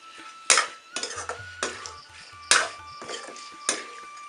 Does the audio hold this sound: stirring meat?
yes